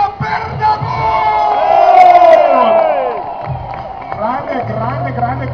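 A crowd at a motocross freestyle show in Sacile shouts and cheers, the roar swelling to a loud peak of whoops and yells before easing off, with an amplified voice carrying over it.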